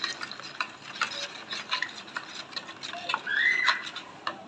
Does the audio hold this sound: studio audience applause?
no